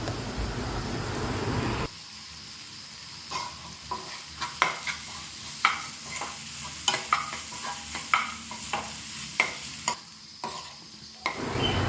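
Egg bhurji stir-fried in a pan with garam masala and coriander, a steady sizzle under repeated rhythmic scraping strokes of a spatula, close and clear with no talking.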